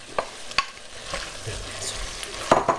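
Peppers go into a chicken stew and are stirred through, with a low sizzle and a few sharp clinks of the spoon against the pot, close by.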